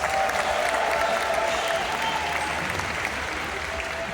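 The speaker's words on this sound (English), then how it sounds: "How about a round of applause for our volunteers?" A crowd at an aquarium dolphin show claps for two volunteers, a broad, sustained burst of applause that starts strong and eases slightly, with faint tonal sounds in the background.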